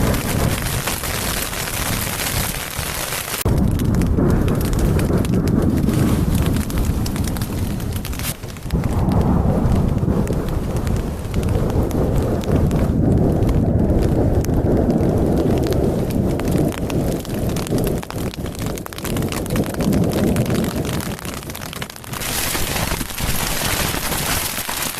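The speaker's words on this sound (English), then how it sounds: "Just a little hailstorm," A hailstorm with thunder pounds a campsite tent in the mountains, a dense, loud, continuous roar of hail and rain with deep rumbles swelling and easing throughout, no voices.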